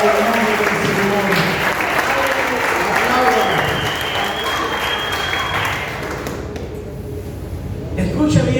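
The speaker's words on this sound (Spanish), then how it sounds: "aplauso al nombre del Señor" Church congregation applauding during a sermon, a loud sustained wash of clapping that thins out toward the end, with a voice briefly over it.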